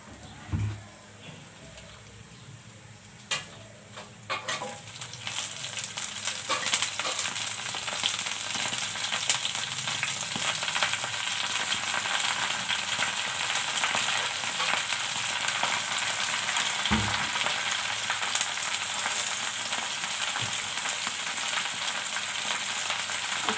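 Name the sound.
napa greens frying with garlic and onion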